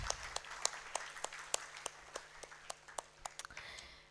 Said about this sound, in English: Once again, a huge round of applause for Jasuben.